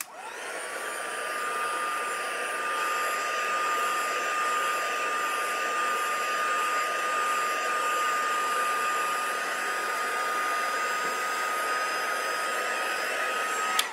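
A hair dryer blows steadily at close range to dry ink on a rustic Paris mixed media craft project, a continuous loud whirring hum with a high whine that runs unbroken throughout.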